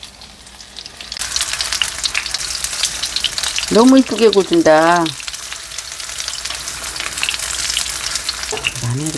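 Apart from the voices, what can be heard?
pollock fillet pancakes frying in oil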